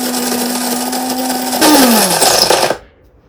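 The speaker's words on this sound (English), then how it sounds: "So you hit the start button and it's going to grind" A Cuisinart electric burr coffee grinder whirs loudly as it grinds coffee beans, holding a steady motor whine that shifts pitch partway through before it abruptly cuts off near the end.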